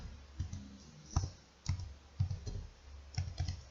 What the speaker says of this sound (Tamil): அட்ரஸை டைப் பண்ணுங்க.